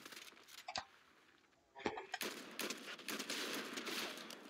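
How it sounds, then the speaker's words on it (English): Gunfire from several players in a Fortnite match: two sharp isolated shots, then a steady crackling stream of rapid shots that continues to the end, moderately loud and close. "Oh, several people are shooting at me now."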